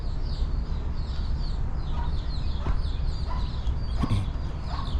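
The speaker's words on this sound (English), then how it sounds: "Look at the roosters and the birds over here." Roosters and chickens cluck and call repeatedly over a steady outdoor street background in Ybor City, Tampa, Florida, with several sharper squawks standing out near the middle and end.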